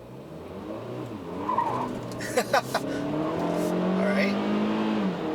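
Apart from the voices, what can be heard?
2017 Kia Soul Turbo accelerating, engine revving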